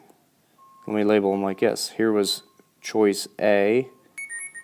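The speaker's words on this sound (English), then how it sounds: "Sorry about my phone going off there." A mobile phone goes off indoors, with a steady ringing tone running under a man's explanation and a few high electronic beeps at the end.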